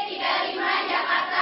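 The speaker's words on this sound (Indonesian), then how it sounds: "Tepuk tangan dulu" Audience applause at a religious lecture gathering, a continuous, even wash of many hands clapping, moderately loud and slightly muffled, with no speech.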